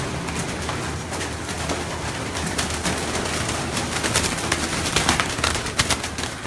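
Pigeons coo on a rooftop amid steady background noise, with soft repeated calls and occasional flutter or clicks close by.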